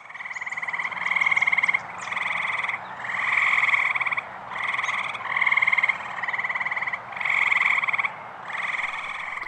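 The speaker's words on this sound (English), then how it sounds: "The great tree frogs are calling." Great tree frogs calling at night in a small drainage swale at a Providence, Rhode Island burial ground, a chorus of loud nasal croaking bursts repeating in regular pulses about once a second, close and clear without voices.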